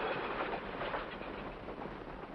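A train rolls past close by in a steady, loud rumble with a continuous rushing roar and no clear separate clacks, filling the whole short stretch without any voices.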